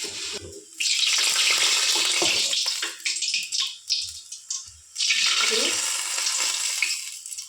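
Mysore bonda batter dropped into hot oil sizzles and crackles in loud bursts, with a fuller surge of frying after each dollop lands and quieter gaps between them.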